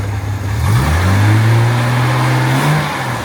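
A Jaguar MKII engine gets a quick throttle blip, its low mid-pitched note rising smoothly and holding for a couple of seconds before easing off, close and steady with no talk.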